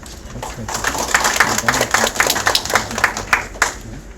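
Welcoming applause for a law professor at a bar association and journalists' association debate, a room of people clapping with distinct irregular claps that rise and fall over several seconds, heard alone without talk.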